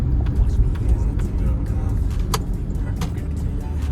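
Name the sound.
tuned Porsche Cayenne diesel engine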